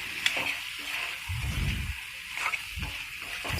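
Mushrooms stir-frying in a pan give a continuous hissing sizzle, broken by low thuddy bursts that sound like stirring or handling noise close by. No one speaks.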